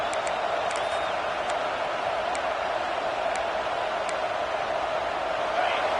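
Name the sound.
stadium crowd noise in college football video game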